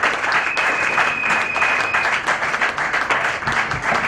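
A church congregation applauds their pastor with loud, dense clapping that keeps up steadily the whole time, filling a big room with no pauses.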